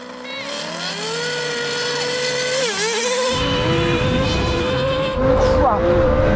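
A Formula 1 car drag racing a 1200-horsepower Lamborghini and a 1300-horsepower Nissan GT-R Nismo: steady loud engine whine rising through gears, then a deeper roar joins midway and builds to the end.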